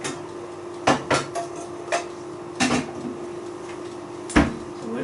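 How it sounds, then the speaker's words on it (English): A medium-sized saucepan taken out of a kitchen cupboard: a few sharp knocks and metallic clatters, the cupboard bumping, spaced apart against a quiet room hum. "let's get a saucepan out."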